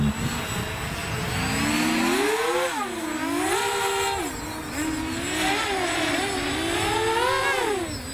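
A Walkera Furious 320 GPS quadcopter drone screams at full throttle in fast forward flight, a loud, whining motor and propeller buzz that rises and falls in pitch as it moves, with no talking.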